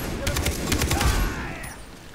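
Rapid gunfire in the Far Cry shooter, a quick burst of several sharp close shots in a row followed by a fading echo tail, with no talking.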